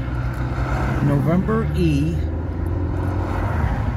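Car driving west through the Eisenhower Tunnel in Colorado, a steady engine and road hum that runs through the whole stretch, with a person talking over it.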